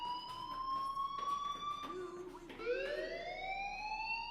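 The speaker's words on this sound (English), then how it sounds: "Hey, do you hear that fire alarm?" A fire alarm wails in the video game Life is Strange, a continuous siren-like tone sustained throughout, briefly dipping before rising again, loud and close.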